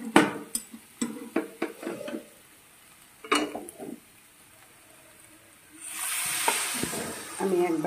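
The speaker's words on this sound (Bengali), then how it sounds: "আমি এটাকে আরও 1 মিনিট মতন কষিয়ে নেব। তেলও ছেড়ে গেছে।" Masala sautéed in oil that has separated in a pan, a series of sharp spoon scrapes and knocks against the pan, then a steady hiss of sizzling rising near the end, close by with no voices.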